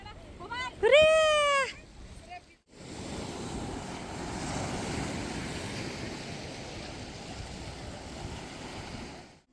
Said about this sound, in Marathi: समुद्राचा खळखळणारा आवाज मनाला शांतता देऊन गेला